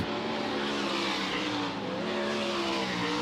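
410 sprint cars roaring through hot laps at Eldora Speedway, a loud, continuous engine drone with layered harmonic whine from several cars, steady throughout without voices.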